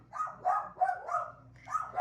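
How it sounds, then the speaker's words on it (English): Several dogs give a quick run of five or six yappy barks in succession, fairly close and moderately loud, with no one speaking over them. "The dogs agree."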